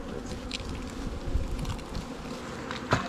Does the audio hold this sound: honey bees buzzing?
yes